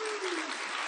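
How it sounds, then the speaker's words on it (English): An audience at an AA state convention in Honolulu claps, a brief burst of dense applause at steady loudness. "I hope you're applauding AA."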